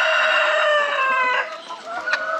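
Chickens on a Jamaican animal farm crow and cluck close by, a drawn-out crow followed by a few short clucks, standing alone without talk.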